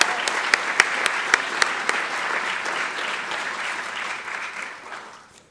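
An audience in a theater claps steadily for a theater production, with a few sharp claps standing out near the start, then the applause slowly fades away.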